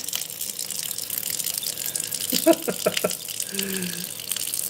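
Water runs steadily from a household faucet, a continuous close hiss with a few brief clatters and splashes, and a voice murmurs faintly near the end.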